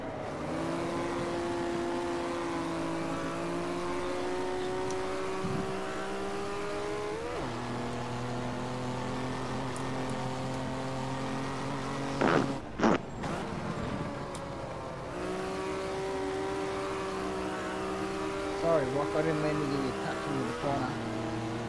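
Race car engines in a racing video game hold steady, loud tones and shift up in stepped revs through gear changes, with a short burst of revving partway through, while players chat over the top.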